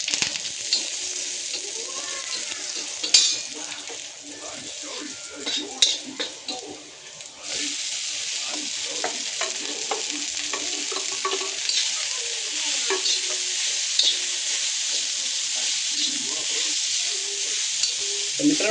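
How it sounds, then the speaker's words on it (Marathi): Mustard seeds sizzle and crackle in hot oil in a home kitchen as a tempering for rice is prepared. A steady hiss is broken by sharp pops and the scrape of stirring. "ह्या काय राई हां डायरेक्ट तेलामध्ये"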